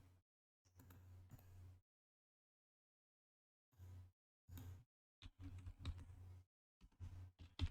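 Keys on a computer keyboard typed in short bursts separated by silences, close and faint, with the Enter key pressed among them.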